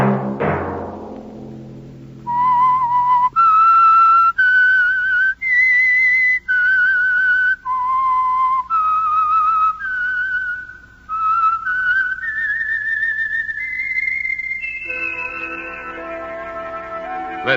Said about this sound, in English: Let that whistle be your signal for the Whistler each Sunday night at the same time